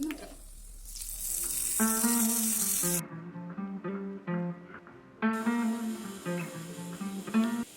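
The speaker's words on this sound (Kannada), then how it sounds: "ಎಣ್ಣೆ ಸಾಸಿವೆ ಕೆಂಪು ಮೆಣಸು ಹಾಕಿದಂತಹ ಒಗ್ಗರಣೆ ಕೊಟ್ಟರೆ ದೊಡ್ಡ ಪತ್ರೆ ಗೊಜ್ಜು ರೆಡಿ" Oil tempering with mustard seeds and red chillies sizzles in a hot pan, a bright hiss that runs for the first few seconds and returns later, heard beneath steady background music.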